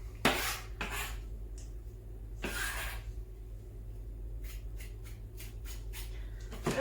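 Spinach being stirred into fresh pasta in a pan for a creamy spinach dish, giving a few scattered utensil scrapes and clinks against the pan, fairly close and moderate, with quieter gaps between them.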